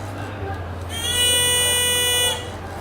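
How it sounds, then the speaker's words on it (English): An electronic buzzer sounds for about a second, a harsh steady tone rising from a low hum and then cutting off. "when I cover the light block, the buzzer starts to boost"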